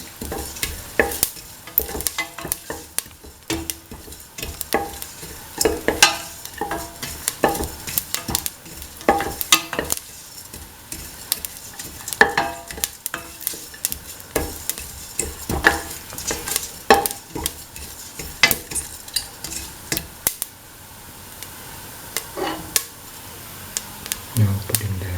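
Fennel seeds frying and being stirred in a pan, a steady soft sizzle broken by repeated scraping clicks of the spatula against the metal, with occasional brief speech.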